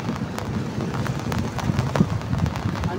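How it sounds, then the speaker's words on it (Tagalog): Heavy rain pours down steadily outdoors, a dense close hiss of drops striking surfaces with scattered sharper splashes and a gusty rumble underneath. "Ayan o, nalakas ang ulan mga idol."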